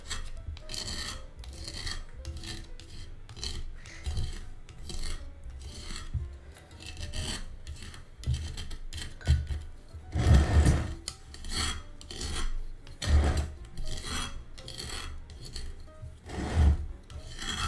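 Dried flower seeds being scraped off with a tool, a repeated rasping, rubbing stroke in uneven bursts, close and fairly loud, with a few heavier scrapes partway through.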